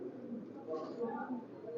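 Highflyer pigeons coo softly at a pigeon sale, a low murmur of calls sitting under steady background talk and bustle.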